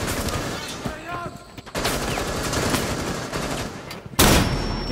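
Gunfire in a melee-only self-challenge shooter game, with sharp bursts and a loud double shot near the end, mixed with game noise and some talk.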